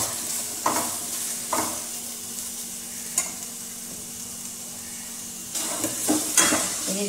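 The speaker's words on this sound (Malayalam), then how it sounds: "ഉള്ളി നന്നായി വഴന്ന് വരണം." Onions sautéing in a pan, a steady soft sizzle broken by several sharp scrapes and clinks of a spoon stirring against the metal, close and alone with no voices.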